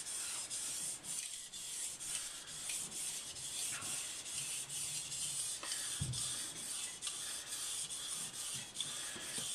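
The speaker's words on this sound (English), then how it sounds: "have a little bit extra pressure contacting the knife onto the stone" A kitchen knife drawn back and forth across a whetstone with firm pressure, making rhythmic, close, gritty rubbing strokes repeated steadily throughout with no talking.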